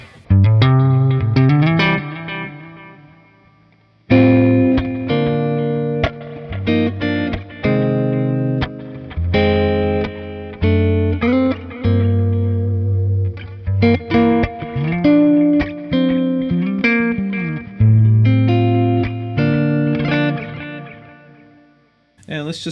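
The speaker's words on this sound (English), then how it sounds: "Let's do some delay on top." An electric guitar plays through a Mocadlo 100 watt tube amp head with delay layered over reverb, sustained chords and single notes echoing and smearing together, loud and close throughout.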